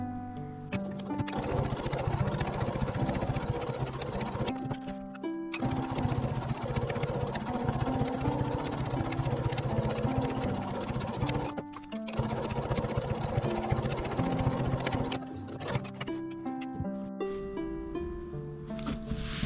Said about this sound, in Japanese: ここもう一度端ミシンで縫っていきます